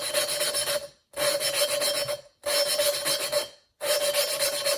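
Engine valve being hand-lapped into an LS cylinder head with a suction cup tool, four long steady gritty rubbing strokes with short gaps between them, close and alone.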